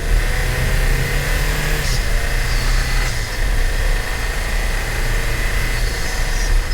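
A Toyota Tacoma's 2.4-liter turbocharged inline-4 revs with a loud, steady, gravelly engine drone and a faint whistly edge, heard close and continuous.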